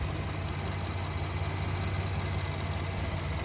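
A 2018 GMC Canyon pickup's V6 engine idles with a steady, low rumble, even throughout, close and continuous with no voices.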